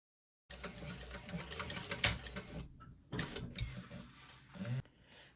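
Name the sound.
sewing machine basting with back stitch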